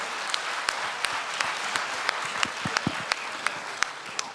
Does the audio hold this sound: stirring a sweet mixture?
no